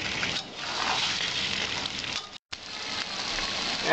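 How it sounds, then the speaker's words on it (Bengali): Pointed gourd and potato pieces sauté in hot spiced oil, giving a steady, close, moderately loud sizzle with a brief gap partway through; no one speaks. "আমি এইবার পটল আর আলু ছেড়ে দিচ্ছি এখন ভালো করে আমি 2-3 মিনিট কষিয়ে নেব"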